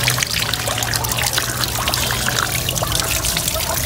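Drinking water pours steadily from a tap in Nepal, a constant close splashing trickle that holds at the same level throughout, with no speech.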